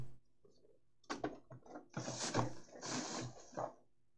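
A camera is lifted out and handled, with its lid removed: clicks, clacks and rustling bursts of handling noise at close range, irregular and fairly loud against a quiet room.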